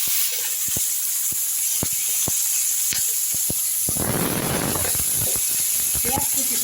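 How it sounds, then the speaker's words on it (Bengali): Chopped onion fries with bay leaf and dried chili in hot oil, a soft sizzle broken by sharp ticks and pops, then a brief louder burst of hissing. "পেঁয়াজ কুচি দিয়ে ফোড়নটাকে আমি একটু ভাজা ভাজা করছি"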